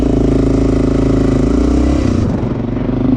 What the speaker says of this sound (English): the stock exhaust on this bike, actually, I have to admit, is way too quiet